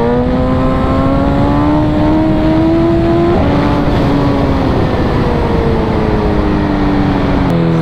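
A car in race mode revs hard in first gear, its engine note climbing steadily, dropping briefly, then rising again, loud and close throughout with no talking.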